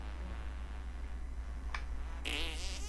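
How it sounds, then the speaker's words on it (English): A brief cartoon fart sound effect plays in South Park: The Stick of Truth, a short squeaky burst standing out over steady game background noise. "Then push up to send out a fart."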